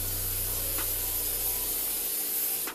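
Hair spray hisses steadily onto a cap in one continuous close, loud burst lasting a few seconds, with no talking.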